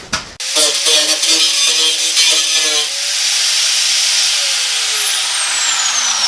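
A 4.5-inch DeWalt angle grinder cuts through a rusted bolt on a Chevy S10 fender, a loud continuous harsh grinding roar that starts abruptly, then thins into a high whine that falls away as the disc spins down.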